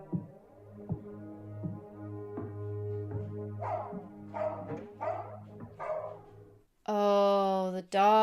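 Dog barking in a war drama series scene, a few sharp barks mixed with low music and dialogue, ending in a loud sustained tone.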